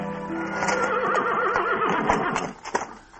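A horse pulling a one-horse shay in a radio drama gives a loud, close whinny as it is reined in, with a few hoof clops trailing off at the end.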